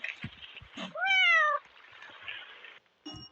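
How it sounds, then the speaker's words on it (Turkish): A single clear meow from a cat in a video game rises out of soft background noise, with a few brief clicks and thumps around it. "Kedi"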